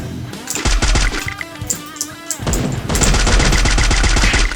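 Video game gunfire erupting in rapid automatic bursts, a dense stutter of shots, a brief lull with lighter pops, then a sustained, louder stretch of machine-gun fire to the end.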